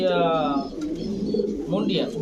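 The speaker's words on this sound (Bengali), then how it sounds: "এত বড় কবুতর" A large Mundian pigeon's soft, throaty cooing close by at a pigeon farm, rolling low calls with a brief voice mixed in.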